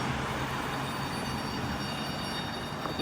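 A heritage tram at the Ballarat Tramway Museum in Australia rolls over track points onto a curve, giving a steady, continuous rumble of wheels and rail noise at moderate level with no voices.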